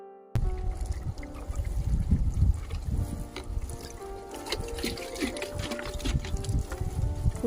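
Water is poured over garden vegetable beds, making an uneven close trickling and splashing that continues throughout, with some rumbling background noise.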